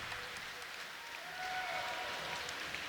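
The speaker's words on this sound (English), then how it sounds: "big round of applause to the man who always arrives in the springboard" A crowd at a timbersports championship applauds Nate Hodges, sustained clapping and faint cheering spread across a large space, with no talk over it.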